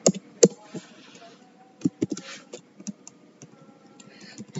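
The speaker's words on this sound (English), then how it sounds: "I'm very lazy typing, so please don't mind." Someone types on a computer keyboard while coding, irregular soft key clicks in short bursts with a few louder taps, close and fairly quiet.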